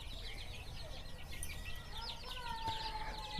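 Hens and young chicks cluck and cheep around a coop, soft overlapping calls with a faint low background hum.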